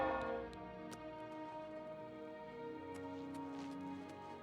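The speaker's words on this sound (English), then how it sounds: "The bells are so loud." Church bells ringing in the Oblivion Remastered video game, a dense, loud wash of sustained ringing tones with repeated sharp strikes, steady and close throughout with no talk.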